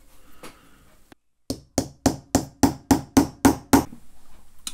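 A hammer strikes a center punch on airsoft rifle parts during a VSR conversion kit build: one lone tap, a pause, then eight sharp, evenly spaced metallic blows, close and loud, with nothing else heard.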